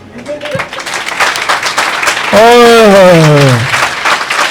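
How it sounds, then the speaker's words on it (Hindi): A large congregation at a Palm Sunday service bursts into loud, sustained clapping that swells midway and keeps going, while a voice speaks and exclaims over it. "जोरदार तालियां बादशाहों के"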